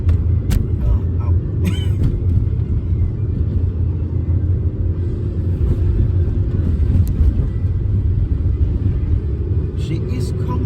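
A Rover 75 drives at night on a late cruise in Norway, its engine and road noise making a steady, heavy cabin rumble throughout. A few faint clicks rise above the drone.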